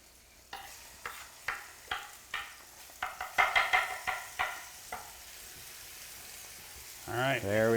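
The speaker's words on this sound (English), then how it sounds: "They're sizzling." Sharp sizzling bursts repeat as spare ribs hit a hot pan, each hiss fading quickly, followed by a short sound at the end.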